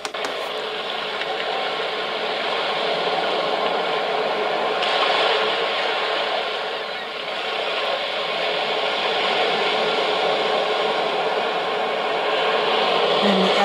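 Ocean wave track on a SZTROKIA white noise sleep sound machine: a steady, fairly loud hissing wash that slowly swells and recedes in gentle surges, with no voices over it.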